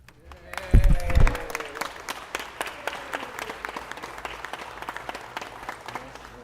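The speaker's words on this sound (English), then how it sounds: "Another big round of applause is in order here" Applause at a city council meeting: a room of people claps steadily after an honor, with a couple of louder thumps near the start and a voice speaking briefly over the clapping.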